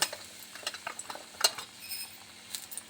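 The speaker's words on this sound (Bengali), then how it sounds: "এখানে দিয়ে দিয়েছি মেথি আর দিয়ে দিচ্ছি কাঁচা লঙ্কা ভালো করে এটা একটু ভেজে নিচ্ছি" Fenugreek seeds and green chillies frying in hot mustard oil in a pan, soft crackles and scattered sharp pops, quiet and close, with no one talking.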